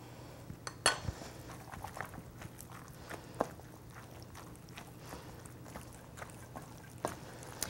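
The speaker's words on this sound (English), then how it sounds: "And then you just stir, stir." A utensil stirs food in a pan with soft scraping and scattered light clinks, fairly quiet and steady, with no talking.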